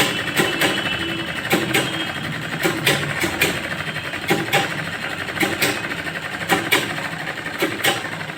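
A sewing machine stitches blouse fabric in a steady mechanical whir, with regular brief knocks as it runs. The sound is close and moderately quiet, and no one speaks.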